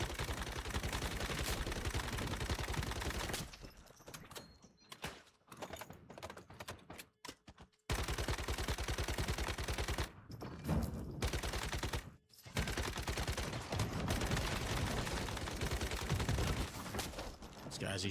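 Rapid, dense gunfire in the online survival shooter Once Human during a boss fight: loud, sustained automatic bursts that break off briefly for a few short gaps, then resume, with game sounds underneath.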